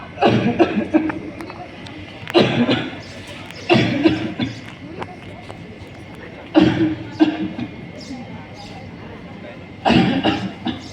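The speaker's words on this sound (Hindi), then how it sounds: "खांसी आ रही है" A person coughs in several separate bursts, spaced a few seconds apart, with a cluttered background and voices around.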